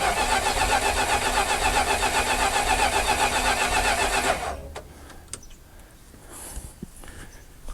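Abandoned classic Dodge Power Wagon engine cranking on the starter: a loud, close, rapid rhythmic whirring churn for about four seconds without catching, then it stops, leaving quiet clicks and faint shuffling.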